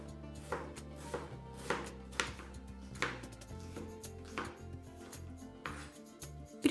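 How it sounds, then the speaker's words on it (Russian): A knife thinly slicing onions on a cutting board in a home kitchen, giving a steady run of crisp, close chopping taps with no voices. "Тонко нарезаем лук, 2 штучки будет достаточно."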